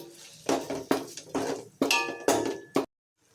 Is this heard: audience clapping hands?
no